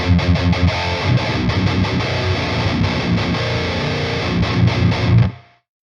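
Heavy, saturated electric guitar chugging with thick distortion, loud and steady for several seconds before cutting off abruptly.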